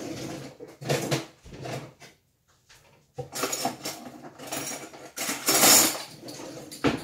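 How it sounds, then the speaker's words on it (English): A spoon clinks and scrapes in a container while Nora Herbals detox drink ingredients are measured, giving repeated bursts of metallic tapping with short pauses and a brief quiet gap midway, close and moderately loud. "This is all I will measure with a spoon."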